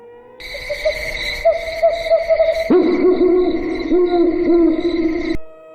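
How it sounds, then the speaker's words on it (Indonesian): An owl hoots repeatedly in a quiet night forest, the calls fairly close and clear, with a steady insect-like hum running underneath. "Suara burung hantu ikut meramaikan suasana perjalanan kami."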